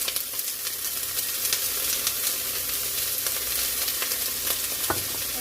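Diced onions sizzling in hot meat grease in a soup pot for lasagna soup, a loud, dense, crackling fry with scattered pops and a few scrapes of stirring, close up and with no voices.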